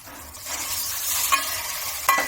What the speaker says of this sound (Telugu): ఇప్పుడు చికెన్ యాడ్ చేసుకోవాలి.